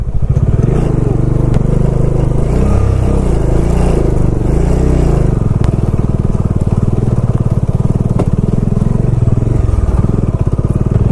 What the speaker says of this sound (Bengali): বাইক লিটারালি লাফাচ্ছে লাফাচ্ছে।